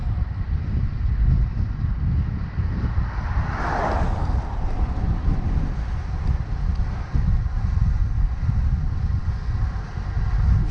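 Steady roar of wind buffeting a cyclist riding on tri-bars on a chilly day, loud and constant throughout with a brief swell partway through.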